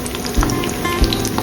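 Onion sautéing in hot oil, an even close-up crackling sizzle with a couple of soft low thumps during a short stretch.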